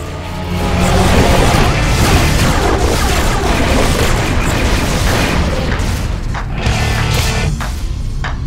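Missile impacts pounding a spaceship in the space combat game Rebel Galaxy, a loud continuous barrage of booming crashes and rumbling explosions with no break for over eight seconds.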